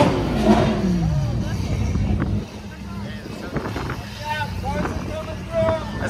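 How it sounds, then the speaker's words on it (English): Strong wind buffeting the microphone outdoors at a supercar show, a continuous rumbling roar with people talking over it. "It's hella windy"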